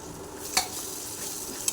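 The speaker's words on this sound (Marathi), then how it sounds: "आणि त्याला छान असं परतून घ्यायचं" Chili powder and biryani masala stirred and sautéed in a pan, giving a soft steady sizzle with a couple of brief spatula scrapes, close and alone.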